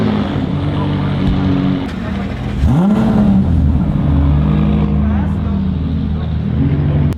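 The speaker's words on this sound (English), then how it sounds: "McLaren going here. We're gonna go ahead and start her up." A McLaren's engine at an outdoor car show, running loud and steady, then climbing in a sharp rev before holding at a high, rough roar. Crowd noise and voices mix in underneath.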